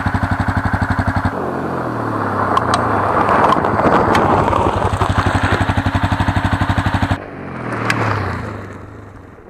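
A Honda CRF250L motorcycle revs through a braking run, a loud throbbing single-cylinder engine that pulses rhythmically, surges, then drops and fades as the bike slows, with a brief rev near the end.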